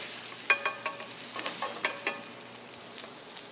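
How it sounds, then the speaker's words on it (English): Shrimp and lobster sear in olive oil in a pan while a wooden spoon stirs them, giving soft sizzling under a series of light scraping knocks at an uneven rhythm. "Put my wooden spoon here and give it a stir."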